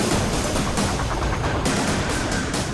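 Gunfire and blasts in Ukrainian cities under Russian attack form a dense, unbroken crackle of rapid shots and rumbling bursts, loud and harsh throughout.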